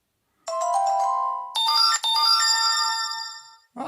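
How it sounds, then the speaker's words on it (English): A phone notification plays a bright melodic ringtone with several clear tonal notes, loud and close, stopping briefly partway and then resuming before it cuts off. "Just got a notification."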